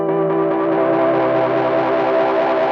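A Roland RE-201 Space Echo tape echo is driven into saturation, giving a loud, sustained, distorted tone with stacked harmonics and a thick, smeared wash of repeats.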